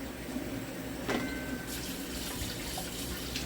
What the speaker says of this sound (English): I'm going to rinse it off good.